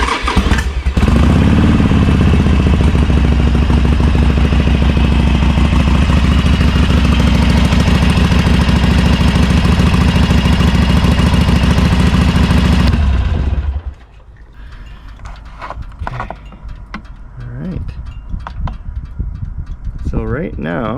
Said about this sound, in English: I'm gonna put the motorcycle on idle for about 5 minutes or so